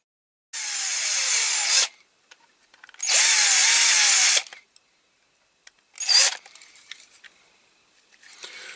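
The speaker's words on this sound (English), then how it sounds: "I'll just use the slight bigger drill bit" A power drill whirs in two long bursts of over a second each, then a shorter spurt, with small clicks and rattles between.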